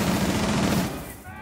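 A rapid automatic burst of gunfire rattles loudly in Rainbow Six Siege, a dense string of shots lasting about a second before cutting off, with a voice speaking over it.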